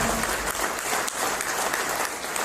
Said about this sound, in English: Mr. William B. Ladlam, please give him a big hand of applause.